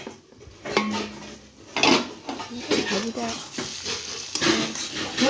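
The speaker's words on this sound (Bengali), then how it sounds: "একটু নাড়াচাড়া করে দেবো" Cabbage, carrot and pea fry being stirred in a pan, with clattering utensil scrapes and knocks against the metal over a light sizzle, close, with a person talking now and then.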